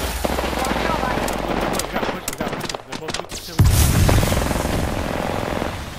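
Gunfire in the battle-royale video game Apex Legends, with a run of rapid shots and a heavy low-end burst partway through, loud and dense, mixed with game sounds.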